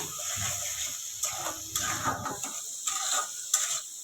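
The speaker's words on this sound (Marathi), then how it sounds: "तेलात चांगला मसाला फ्राय करून घेऊया" Masala spice paste fries in oil for a mackerel curry, with soft sizzling and intermittent stirring and scraping of a spoon in the pan, close but fairly quiet.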